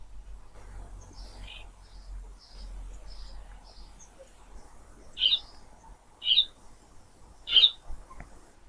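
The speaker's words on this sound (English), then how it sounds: "Nice birds you got in the background." Bird calls in the background of an indoor setting: faint repeated chirps early on, then three louder, sharp calls spaced about a second apart near the end, heard alone over a low hum.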